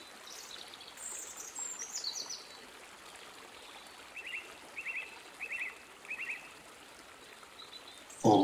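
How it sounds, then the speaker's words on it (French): Water gurgles and trickles steadily throughout, with a few faint bird chirps drifting in and out above it. "les clapotis d'un petit ruisseau qui passe à proximité de votre chemin"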